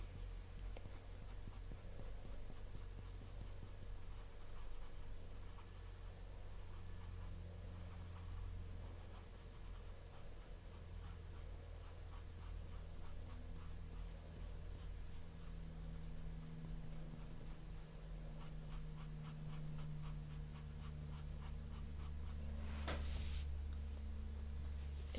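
Prismacolor colored pencil scratches across paper in repeated quick, soft strokes, a close, faint scraping rhythm with a brief louder rub near the end.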